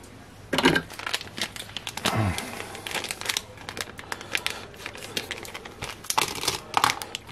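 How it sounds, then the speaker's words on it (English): Plastic packaging crinkles and crackles up close as it is handled and cut with scissors, with sharper snips and rustles scattered throughout. "get the scissors out."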